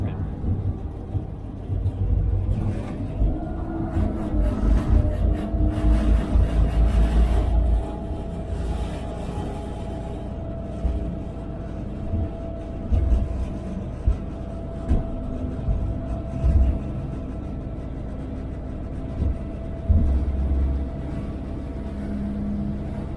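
Steady low diesel engine rumble inside the cab of an RBMN diesel locomotive on a cab ride, a continuous moderate drone with a faint mid-pitched tone and occasional clanks and swells, under intermittent talk.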